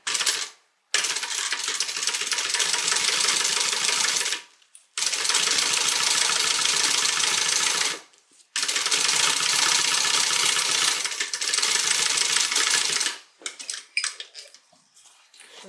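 A sewing machine stitches the lining of a Cianna crossbody bag in three long, steady runs, with short pauses between them. A softer, quieter stretch follows at the end.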